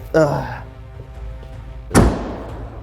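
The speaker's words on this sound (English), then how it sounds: "Let me close this door." A solid thunk of a car door shutting, heard once close by after a brief spoken phrase, followed by a quiet interior hum.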